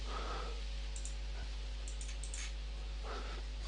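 A single mouse click on a software button in wxFormBuilder, a faint short tick over a steady low hum, with a few small clicks scattered around it.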